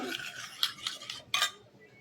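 A spoon clinks and scrapes against a bowl while mixing warm water, soda flower and oil, giving a few sharp metallic taps amid steady soft swishing, close and fairly quiet with no voices.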